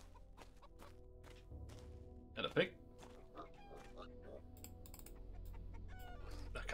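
Chickens cluck and squawk in the Arx Fatalis video game, a burst of loud clucking partway through over faint background tones while someone talks briefly.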